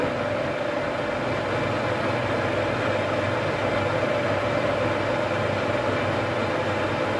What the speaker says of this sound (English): The lathe can then be switched on again.